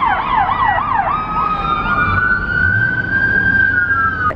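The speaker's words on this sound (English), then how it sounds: "now we've got fire engines flying in hand here" Fire engine siren on a Los Angeles street, a loud close yelp quickly sweeping up and down, then settling into a long steady wail over traffic noise.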